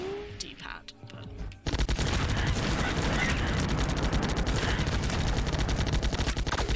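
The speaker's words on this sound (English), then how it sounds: "And now we can shoot in all directions." In The Binding of Isaac: Repentance, tears fire in all directions. After a short quieter lead-in, a loud, dense and continuous rattle of rapid shots starts and keeps going steadily to the end.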